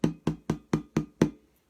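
Six evenly spaced strikes on the middle of a hand drum's head with a full, round low thump, each ringing briefly before the next.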